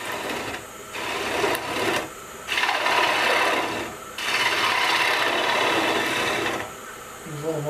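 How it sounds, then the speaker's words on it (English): Wood lathe hollowing a wooden bowl, with a steady rasping, scraping cut that stops and restarts in several bursts over a constant machine hum. "We're going to use a normal bowl hollowing sort of strategy until I get the walls about straight in, and then we'll turn to hollowing tools."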